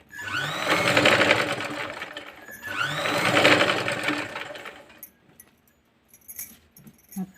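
A sewing machine stitches round a blouse neckline in two long, loud runs, then falls to quiet with a few light clicks and taps of fabric handling.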